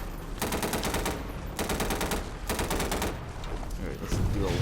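Video game gunfire in Garry's Mod with a Fallout 4 Deathclaw mod: loud sustained automatic bursts in repeated volleys, dense and continuous, with game noise mixed in.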